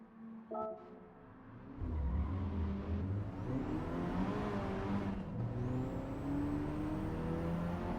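DS3 car in a racing video game, engine revving up after a brief clatter, then holding a loud, rising whine with shifting pitch through the rest.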